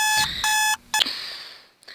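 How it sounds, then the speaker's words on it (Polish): An electronic alarm clock beeps in two loud, steady bursts, then a short chirp and a brief tone before it falls quiet, with faint handling noise after. "A, to mój budzik."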